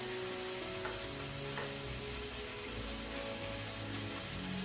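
Plantain fries with Scotch bonnet pepper in hot oil, giving a continuous soft sizzle with light stirring scrapes, steady and fairly quiet throughout.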